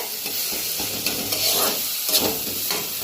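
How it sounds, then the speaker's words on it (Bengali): Spices and green peas sizzle in hot oil for fried rice while a spatula stirs and scrapes the pan in irregular strokes, close and steady, with no talking. "এবারে মশলাটা"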